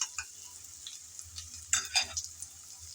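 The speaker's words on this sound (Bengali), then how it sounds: "লবণ আর হলুদ দিয়ে আবারও নেড়ে চেড়ে আলুটাকে ভালোভাবে ভেজে নেব।" Potatoes fry with salt and turmeric in a pan for a spinach dish, stirred so a soft, steady sizzle runs under a few scraping clatters of the spatula.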